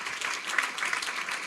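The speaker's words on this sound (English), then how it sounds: "So big round of applause," Conference audience applauding in a hall, a steady wash of many hands clapping that stays fairly even and moderately loud throughout, with no talking over it.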